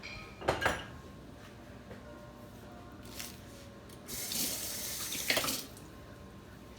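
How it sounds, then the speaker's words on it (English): Tap water runs in short bursts over hands being rinsed at a kitchen sink while making cinnamon rolls, with a few brief splashes and clinks, fairly close and moderately loud, with no talking. "Rinse my hands real quick."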